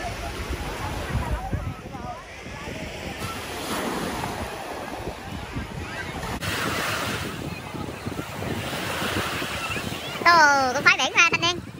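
Waves break and wash on Vung Tau's back beach, a steady close surf roar with wind buffeting the microphone and faint voices in the background.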